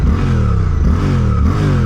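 A Suzuki GSX-8R motorcycle fitted with an M4 aftermarket exhaust revs hard and steadily, its deep, raspy engine note loud and close with rising and falling pulls, no voices over it.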